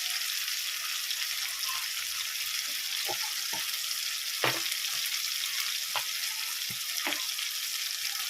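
Prawn masala gravy frying and being stirred in a pan, a steady soft sizzle with occasional scraping clicks of the spoon, close and alone.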